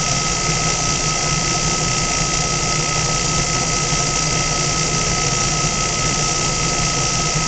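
Electric motor spinning steadily while a strobe light flashes at it, giving a loud, continuous mechanical hum and whir with a constant tone and no talking.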